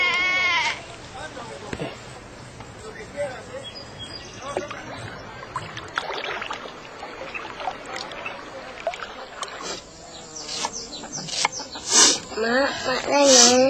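A goat bleats in a 2003 Malaysian Raya television advert, a quavering cry rising near the end over people talking and background noise.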